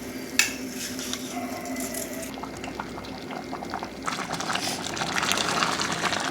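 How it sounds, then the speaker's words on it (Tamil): Rice goes into a pot of boiling water on the stove for ghee rice, with bubbling water, a few splashes and clinks of metal, and the boil grows louder and busier toward the end. "இப்போ தண்ணி கொதிச்சிருச்சுங்க. இப்போ அரிசியை போட்டுடலாம்."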